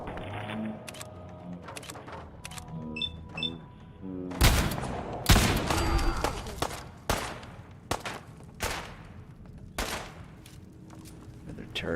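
Automated turret in the video game Fallout 4 firing sharp, loud bursts of shots in irregular clusters, with softer clicks and thuds between them and occasional speech.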